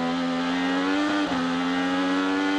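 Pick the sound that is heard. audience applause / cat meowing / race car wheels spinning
race car wheels spinning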